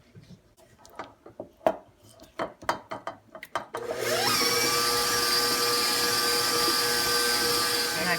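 Butter, sugar, eggs and bananas for zucchini banana nut bread get mixed, first with sharp intermittent scraping and clacking in a bowl, then a loud, steady electric mixer whir that runs to the end.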